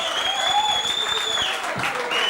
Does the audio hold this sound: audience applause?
yes